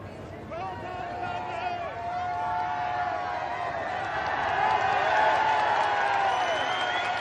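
A large outdoor crowd cheers as three RAF Hercules transports fly away after a 1982 flypast over London, a steady, swelling roar of many voices with a faint engine drone beneath, growing louder toward the end.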